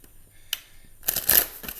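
Tarot cards are shuffled by hand, a faint tap followed by a close, rustling flurry of riffled cards building over the last second, with no talk.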